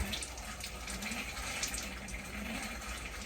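Water mixed with pink antifreeze runs from a tap while an Alta 2800KBH travel trailer is winterized, a steady hissing gush that stays constant and fairly quiet throughout.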